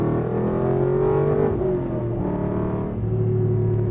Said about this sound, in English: It sounds sweet. It does sound like a real V8.